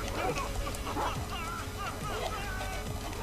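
Dogs in the video game Far Cry 3 bark and whimper faintly, short yips and whines scattered over a low steady game background.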